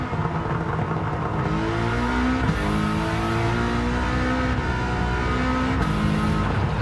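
A Subaru turbo car in Gran Turismo 7 drones steadily in a continuous engine note, with rising and falling revs and a few gear shifts; no one talks.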